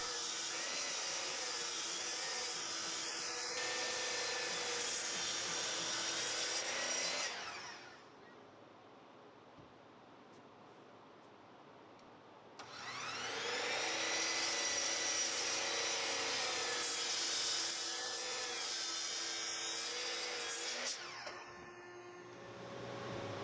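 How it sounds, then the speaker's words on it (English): A miter saw cuts tabletop boards to length in a workshop, with two long loud whining runs separated by a quiet gap, steady and close, and no speech. "I headed over to my miter saw station to break it down to its approximate length"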